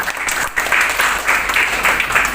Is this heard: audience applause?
yes